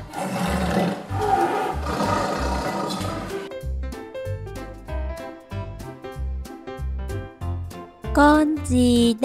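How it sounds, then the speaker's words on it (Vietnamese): A tiger roars loudly and close for a few seconds, then rhythmic children's music with a steady beat follows and a brief sung phrase comes at the end. "Con hổ."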